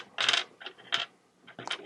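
Small plastic player dice for a fishing board game set down on a table, several crisp clicks and clatters in separate bursts, close and alone.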